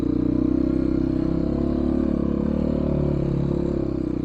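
A 2022 GPX FSE300R 300cc motorcycle being ridden, its engine holding a steady, loud, close drone with a faint rattle and no change in pace.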